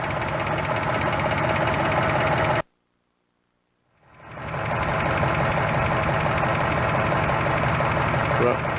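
A 1954 Ford Crestline Victoria engine idles steadily and loudly, with a brief dead-silent gap, then it starts again and the low, even idle with a faint knocking pulse resumes.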